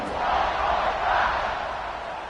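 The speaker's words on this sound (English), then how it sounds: "this crowd now ready to get behind them" A stadium crowd at a Georgia Southern college football game roars in a broad, sustained wash of cheering ahead of the kickoff, steady and dense, with no distinct voices standing out.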